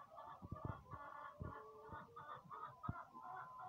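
Clucking chicken of uncertain sex, about six months old and not laying eggs, giving several soft, irregular clucks at close range over a murmur of background noise.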